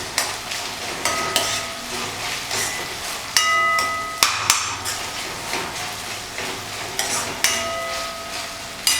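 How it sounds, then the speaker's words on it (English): Tomatoes are mixed into paneer bhurji in a frying pan, giving a loud steady sizzle broken by sharp metallic clanks and taps of a spatula striking the pan every second or so. "So it's time to add the tomatoes and give this a good mix."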